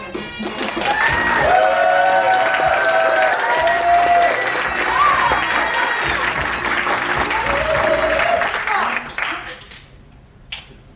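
Audience applauding and cheering for performers at a senior show, a loud sustained roar of clapping with voices whooping and shouting over it, dying down near the end.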